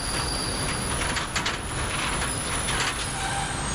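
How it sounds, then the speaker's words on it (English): A train rolls along with steady rail noise and intermittent high wheel squeal as it brakes toward a stop, continuous and fairly close, with no voices. "Train stopped."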